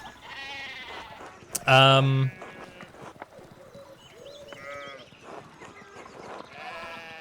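Sheep in the medieval-village adventure game Pentiment give a loud, close bleat, with fainter bird-like calls and soft game ambience before and after, while voices talk over the scene.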